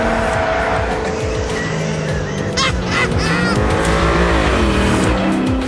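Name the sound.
GTR race car driving and understeering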